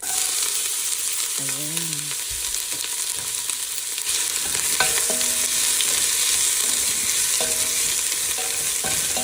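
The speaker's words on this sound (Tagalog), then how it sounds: "mainit na yung mantika. So, ang ihulog ko muna is sibuyas." Chopped onions dropped into hot cooking oil for a Filipino papaitan, sizzling and crackling steadily with stirring and occasional clinks of a utensil, while a voice speaks briefly.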